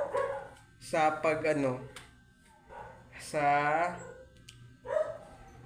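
Dogs bark in a few short bursts over a couple of seconds, mixed in with a person talking nearby.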